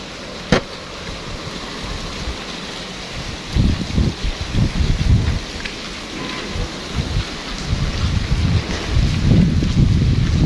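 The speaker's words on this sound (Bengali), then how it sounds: "দেখতেছেন বৃষ্টি নামতেছে প্রচণ্ড পরিমাণ" Heavy rain pours steadily over a town in Faridpur during a storm, with gusting wind adding low rumbling surges throughout; a sharp crack near the start stands out above the constant loud hiss, and no one speaks.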